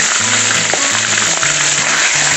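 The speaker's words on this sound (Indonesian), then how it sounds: "Masukkan bawang putih yang sudah dicacah." Chopped garlic sizzles loudly in butter in a pan for shrimp spaghetti, a dense, steady frying hiss heard up close, with a low background tone underneath and no talking.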